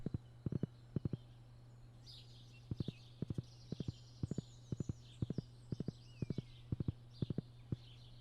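Steady clip-clop of horse hooves walking in paired beats in Stardew Valley, crisp and close, with faint bird chirps in the background.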